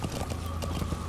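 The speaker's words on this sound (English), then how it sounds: "Let's go get on the horse." A horse gallops steadily in Metal Gear Solid V: The Phantom Pain, with rapid rhythmic hoofbeats over a dense game ambience, close and continuous for the whole stretch.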